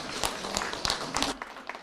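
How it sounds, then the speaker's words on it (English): A graduation audience claps for the standing parents and guardians. The applause is brief and fairly close, with scattered individual claps rising out of a soft background murmur. "Let's give a round of applause, students and staff."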